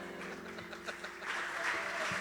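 Congregation in a church applauding together, a dense wash of clapping that swells louder in the second half, with faint voices mixed in.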